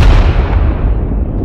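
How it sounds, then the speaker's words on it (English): An aerial explosion sound effect made for blowing up jets, a loud, deep blast that rolls into a long rumbling decay. "we created some very specific aerial explosion clips"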